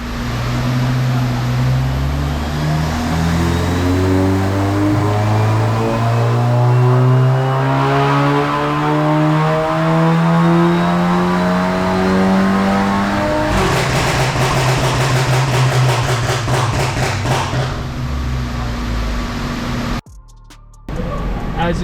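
A tuned 2018 VW MK7 2.0T with a BDT Stage 2 tune and tuned transmission, run on a dyno. The engine revs loudly and steadily, rising in pitch through repeated gear pulls, then cuts off abruptly near the end.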